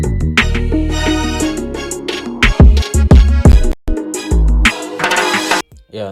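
An FL Studio beat loud and up front: accordion chords over string bass and deep 808 hits, broken by a choppy drum fill with sharp stops and gaps before the groove returns.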